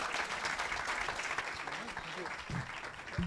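Audience applause at a TV festival Q&A, a steady wash of clapping at moderate distance, with a few voices and thumps over it.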